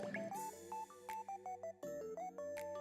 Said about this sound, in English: I should have turned my phone on silent.